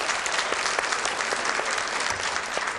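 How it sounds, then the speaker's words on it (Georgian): Steady, dense applause from a studio audience at a televised Georgian dance competition fills the whole stretch, loud and continuous with no voices over it. "აპლოდისმენტები"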